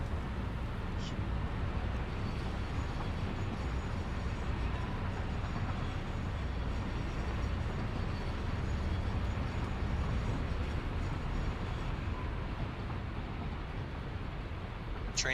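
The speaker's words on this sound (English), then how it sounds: "Got a train right here." A train in the factory-building game Satisfactory rolls along its rails with a steady, droning rumble that stays constant and moderately loud throughout, with no clear clicks or horn.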